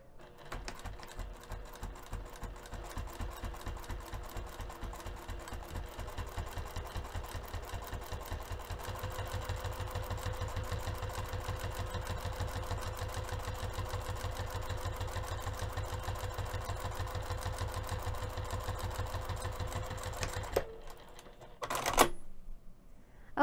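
A sewing machine stitches a lace zipper onto a box pouch, a steady rapid mechanical clatter that speeds up and runs continuously before stopping with a couple of clicks near the end.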